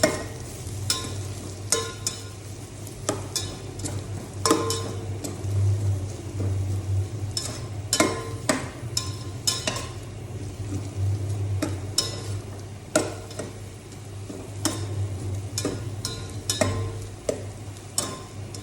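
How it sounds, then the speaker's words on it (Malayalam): Onions and green chillies are stirred in a hot pan until softened, producing a continuous sizzle punctuated by frequent scraping spatula strokes, close and moderately loud. "ഇതിൻ്റെ പച്ചപ്പ് മാറുന്നത് വരെ നന്നായി ഇളക്കി റെഡിയാക്കി."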